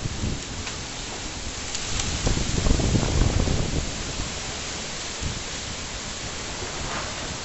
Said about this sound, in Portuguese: Chovendo gelo.